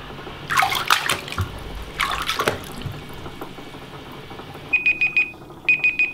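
Boots soaking in a tub of water: two bursts of sloshing and splashing as they are moved, then stillness, followed by repeated electronic alarm-like beeps.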